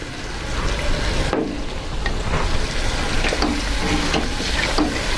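Shrimp sauté in a hot pan, a steady loud sizzle broken by the scrape and clatter of stirring, with no talking.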